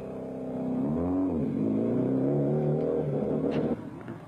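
A 1996 Seat Ibiza rally car at the Rally of Portugal, its bonnet, front spoiler, windscreen and headlights smashed, drives with a loud, close engine that revs up and holds a strong, steady drone before easing off.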